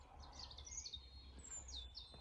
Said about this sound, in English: More birds singing.